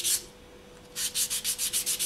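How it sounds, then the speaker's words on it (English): Polymer clay earring edges are sanded with 400 grit wet/dry sandpaper: an initial scrape, a pause, then about nine quick, evenly spaced rubbing strokes, close and soft. "So just grab a 400 grit piece of wet dry sanding paper, and you're going to sand those edges"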